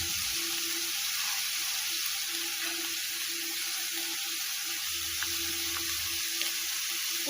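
A pinch of asafoetida (hing) drops into hot oil for a bread pizza, giving a soft, continuous sizzle that stays low and fairly faint throughout, with a few tiny pops and no speech.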